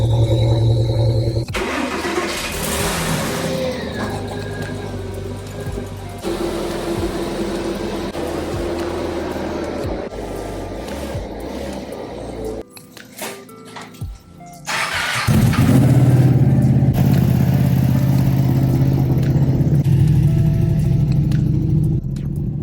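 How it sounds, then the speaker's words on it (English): Porsche cars and motorcycles start up and idle as they are driven out of a garage, engines rumbling close by, with a pause before a louder engine starts and runs steadily. "let's at least get these cars and bikes out of the garage."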